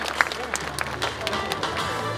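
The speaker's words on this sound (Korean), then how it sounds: "수고의 박수 한번 부탁드리겠습니다" Attendees at a ceremony marking the start of KTX train stops at Mulgeum Station give a round of applause, scattered clapping with distinct individual claps over a low hum, moderately near, with some murmured voices beneath.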